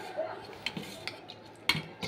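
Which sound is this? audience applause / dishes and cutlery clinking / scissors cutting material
dishes and cutlery clinking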